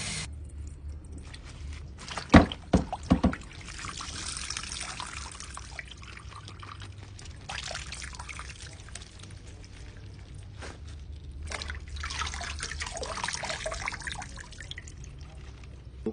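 Liquid squeezed from salted mustard leaves drips and trickles into a container during fermentation prep, with a few sharp knocks early on and a steady low background hum.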